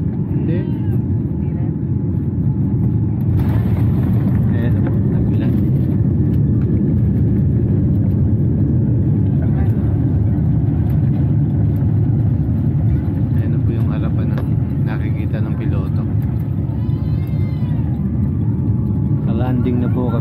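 Steady airplane cabin roar during landing, a constant loud low engine and airflow rumble throughout, with people talking faintly inside the cabin.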